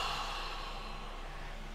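A single deep, slow breath drawn in during a relaxation exercise, soft and airy, close to the microphone with no talking over it.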